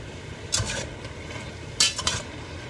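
Close metallic scraping and clinks of a utensil stirring in a pot, two distinct bursts separated by quieter moments.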